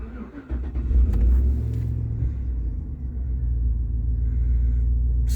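A GM Gen IV 5.3-litre V8 with a cold-start fault cranks and fires, surging briefly before settling into a steady, deep idle rumble, close and loud with no talk.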